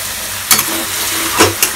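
Spice paste for Bengali wedding-style fish head moong dal frying in oil as it is stirred in a pan, with a steady close sizzle broken by a couple of brief scraping stir strokes.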